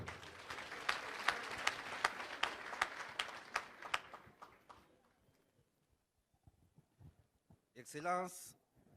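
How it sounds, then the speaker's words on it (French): Audience applause at a corporate ceremony speech by a company CEO, a burst of sharp claps for several seconds that thins out and fades, followed by a brief voice. "Merci d'applaudir."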